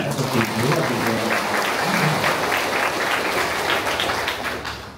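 Inside a parish church during a wedding mass, the congregation claps loudly and continuously, a thick, steady roar of applause from many hands close by.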